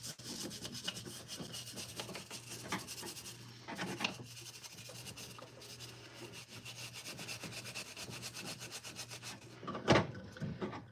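A small brush scrubs a Plymouth engine block with a steady, close scratchy rubbing in repeated strokes, and a sharper scrape near the end, with no voices.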